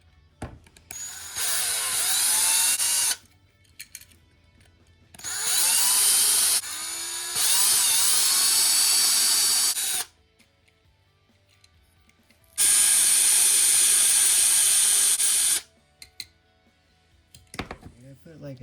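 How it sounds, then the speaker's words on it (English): A small power drill bores out the metal mounting post of a 1/64 scale diecast 1994 Dodge stretch limo model, whining in three sustained high-pitched bursts separated by quiet pauses. "drill the mounting post and get them all taken apart"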